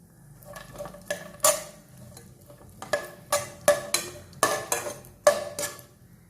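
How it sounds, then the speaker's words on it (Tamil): Cashews and raisins roasting in ghee in a pan for a Kerala jackfruit payasam, with a faint sizzle under a series of distinct clinks and scrapes as a metal spoon stirs against the pan, no talking. "அதிலே கொஞ்சம் முந்திரியும் திராட்சையும் சேர்த்து வறுத்துக்கணும்."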